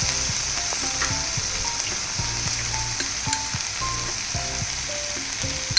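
Chili powder and coriander powder spatter in hot oil in a frying pan for a tomato rice lunchbox dish. A continuous close sizzle runs throughout, with the rhythmic clinks and scrapes of a spoon stirring the pan.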